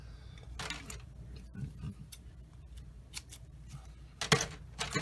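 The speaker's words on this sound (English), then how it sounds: "And yes, I always cut my tape. I don't tear it." Scissors snip through masking tape while building a 1/48 AMT/ERTL P-40F Warhawk model kit, several crisp, close cuts in a loose rhythm over a quiet room, without talk.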